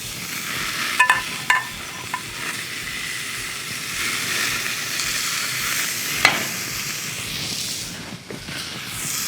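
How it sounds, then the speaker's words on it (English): Steak cooking with heating whiskey marinade gives a steady, close frying hiss throughout, with a few faint clinks and scrapes over the sizzle and no talking. "take the remaining marinade and heat that up while the steak cooks"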